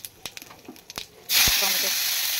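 Bay leaf and dried red chilli hit hot oil with a sudden loud sizzle and hiss that holds steady to the end, after a stretch of faint kitchen clatter.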